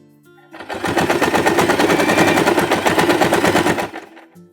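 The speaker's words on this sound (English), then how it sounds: "Now with the right sides together, I will put the fabric and I will sew right in the line here." A sewing machine stitching fabric for a bunny ears headband runs in one loud, close burst of rapid needle strokes lasting about three seconds, alone between brief quiet ends.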